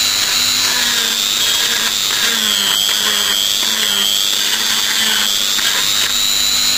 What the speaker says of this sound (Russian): В данном случае с помощью бормашинки.